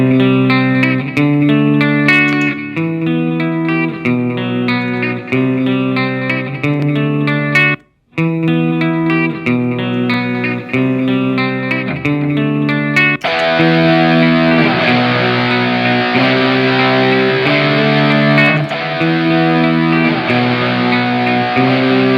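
A distorted electric guitar loop repeats on an XSonic ULOOPER looper, chords chugging in a steady rhythm with one brief dropout, then a heavier, denser layer joining partway through.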